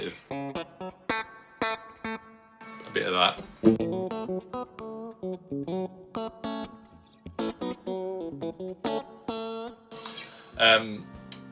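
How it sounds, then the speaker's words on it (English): Distorted electric guitar chords and notes with a splashy, reverberant tail, played in short phrases with brief gaps; a voice speaks briefly. "I just love the sound of a little bit of spring reverb mixed in there."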